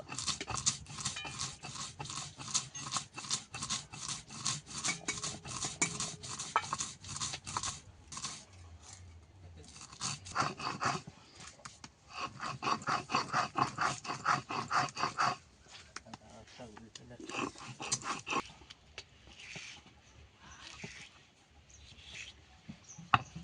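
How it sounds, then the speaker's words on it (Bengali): Mustard seeds being ground with water on a stone grinding slab, a steady rhythmic rasping and scraping of stone on stone that continues with brief pauses, close and fairly loud, with no talk. "সর্ষেটাকে আমি জল দিয়ে বেটে নেব।"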